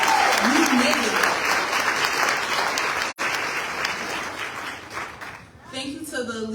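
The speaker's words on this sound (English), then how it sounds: "Give yourselves a round of applause again." Graduates at a summer graduation ceremony give a long round of applause, a dense, loud clapping from a crowd that fades briefly near the end as a voice starts speaking.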